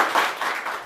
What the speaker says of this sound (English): Can we give an applause for